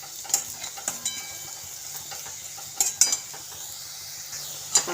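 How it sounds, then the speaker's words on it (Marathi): Spices and onion-garlic chutney sauté in oil in a pan, with a soft sizzle beneath sharp intermittent clinks of a spoon against the pan, close and fairly quiet, with no talk. "एक मिनिटभर ह्याला पण तेलावर छान असं परतायचं म्हणजे मसाल्याचा छान सुगंध सुटतो"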